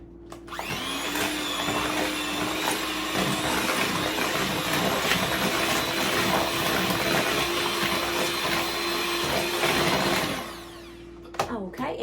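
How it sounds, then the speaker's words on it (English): Zucchini bread batter of oil and vanilla whirring in an electric mixer, a loud steady motor hum held for about ten seconds before it cuts off, followed by a few small clinks. "And we'll go ahead and give that a mix."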